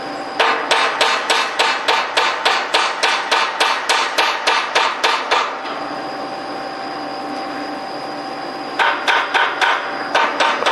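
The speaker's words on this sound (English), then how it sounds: "I'm just going to whack it with a hammer" Steel is struck with a hammer in a fast, even run of about fifteen sharp metallic blows, then a pause with a steady ringing hum, and a few more strikes at the end, loud and close.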